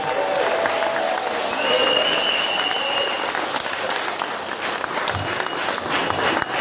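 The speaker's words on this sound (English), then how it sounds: "let's give one final round of applause for Andrew and slime molds." A crowd applauds continuously, a full round of clapping with faint cheering and background murmur mixed in.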